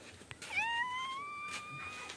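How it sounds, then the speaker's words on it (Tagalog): A house cat gives one drawn-out, rising meow in a home setting. The call is clear and fairly close against quiet background noise. "Ito naman po yung pusa nila, si Pochi."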